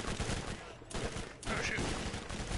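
Gunfire in the video game Borderlands, with dense bursts of rapid shots crackling almost continuously, loud and close, broken by brief gaps.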